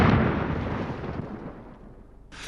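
A gunpowder cannon fires a single loud, booming shot that rolls away and decays over a couple of seconds, followed by a faint hiss of noise at the end.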